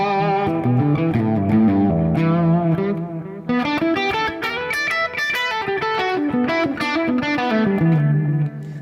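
Electric guitar played through a Memory Man delay pedal model, sustained distorted chords and melodic notes with repeating echoes and chorus-like shimmer, loud and alone without talk.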